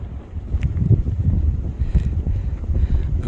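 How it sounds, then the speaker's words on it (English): Wind buffeting hard on a mountaintop near the Albert Mountain fire tower in North Carolina, a loud low rumble of gusts striking the microphone in uneven surges with no voices. "The wind just picked up and stole my hat."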